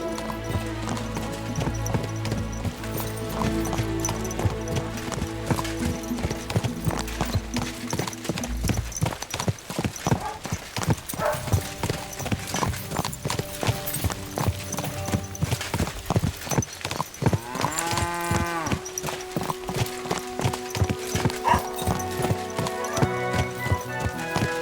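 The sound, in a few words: horse hooves clip-clopping while riding, from video game Kingdom Come: Deliverance II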